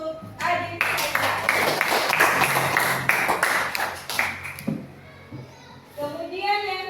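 A group, likely children, claps for Adik Saira in a crowded burst of hand claps lasting a few seconds, then fades into scattered voices and talk.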